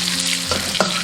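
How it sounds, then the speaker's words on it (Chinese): Scallion, ginger and garlic are stir-fried in a wok in shrimp-flavoured oil for a spicy mala dry pot, a close, steady sizzle with two scraping stirs of the spatula. There is no speech. "下入葱姜蒜炒香"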